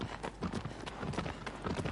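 A horse's hooves clip-clopping in a video game, a rapid, rhythmic series of fairly close hoofbeats at a running pace throughout.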